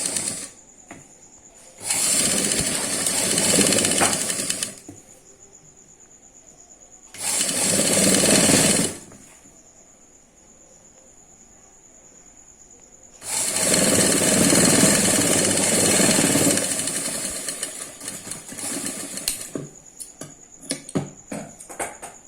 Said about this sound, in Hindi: फिर इसे इस तरह से रखकर सिलाई चलाएंगे पूरे में